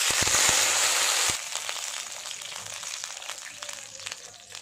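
Water hits a hot tadka of sputtering spices in a pan while making fara roti, a loud burst of hissing sizzle at the start that quickly drops to softer crackling and bubbling.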